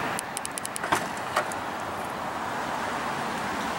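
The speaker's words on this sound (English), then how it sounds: "the trunk lid does lift all the way up for you" Trunk lid of a 2015 Maserati Ghibli 3.0 L twin-turbo V6 lifting open on its own: a few light clicks and a latch release, then a soft steady hum as it rises, with no talking.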